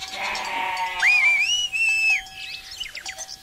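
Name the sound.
whistle blast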